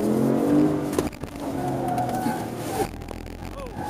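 Porsche car at a Van Nuys, California airshow event, engine revving and accelerating hard with tires squealing and sliding, loud and continuous for several seconds, a brief skid near the end.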